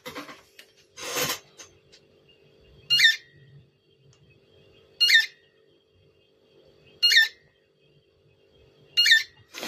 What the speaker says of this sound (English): this is obviously the most power hungry part of the multimeter. Because when I press that button now, it makes this noise.